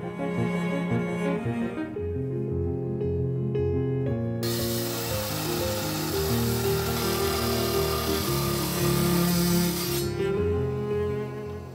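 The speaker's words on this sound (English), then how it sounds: "I got this sawed up" A power saw cuts through a turquoise stone block, a loud close grinding hiss over a steady motor hum that swells for several seconds mid-clip and then eases back.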